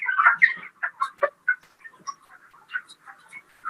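Chickens in a poultry house with clean, dry litter, clucking in a steady series of short, close, fairly loud calls with brief pauses, the bird sounds alone.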